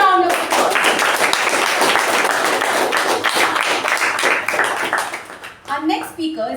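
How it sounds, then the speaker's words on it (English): A round of applause at a Toastmasters meeting, brisk clapping from a room of people that fades out near the end as voices return. "Let's give him another round of applause."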